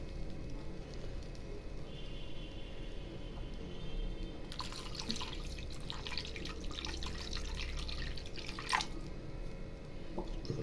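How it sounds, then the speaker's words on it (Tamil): Water trickles and splashes steadily into a pot, a continuous pouring sound that grows brighter and fuller midway through, with no talking. "தண்ணி ஊற்றியாச்சு"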